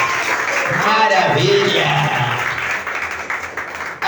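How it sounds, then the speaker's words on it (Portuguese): Church congregation at an Assembly of God service applauding steadily, a broad wash of clapping that stays loud for about four seconds with voices and a brief spoken exclamation over it. "Vamos aplaudir a Jesus, pessoal."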